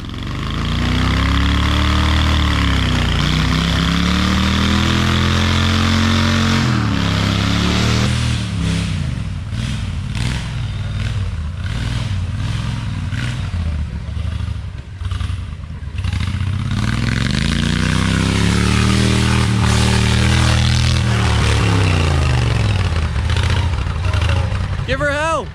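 A tractor engine revs and labours on an obstacle course after sucking water into its intake, the loud rumble rising and falling in slow swells with clattering in between.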